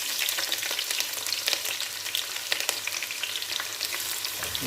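Green chillies and onion fry in a pan for chicken biryani, a steady, close sizzle with scattered crackles and pops and no voices.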